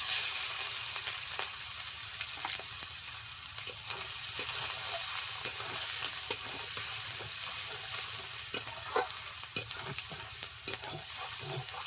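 Whole cumin, whole garam masala and chopped onion fry in hot oil for a pangas fish bhuna, giving a steady dense sizzle with frequent small scraping stirs and clicks throughout, close and unbroken, with no talking.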